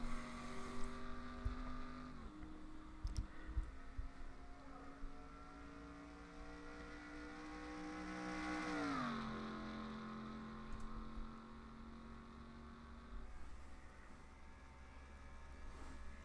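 Race cars in a stock car racing video game roar down the track at the start of a Las Vegas race, engine notes rising and falling with a sharp pitch sweep as one car passes close by, a steady loud drone throughout.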